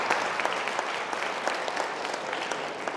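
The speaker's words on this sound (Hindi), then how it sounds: "सब तालियां बजाओ प्रिंसिपल साहब के लिए" An audience claps steadily for the school principal at a speech event. The applause is dense and continuous across the whole stretch, moderately loud, with a few sharper claps standing out and no talking over it.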